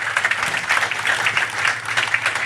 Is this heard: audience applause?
yes